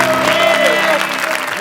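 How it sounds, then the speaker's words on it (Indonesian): Applause breaks out on an Indonesian TV talk show, a dense wash of clapping running steadily throughout with a held musical tone and other studio sound mixed in underneath. "Bangga, tepuk tangan"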